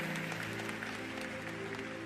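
Church audience applauding, a steady dense wash of clapping hands throughout with no talk over it.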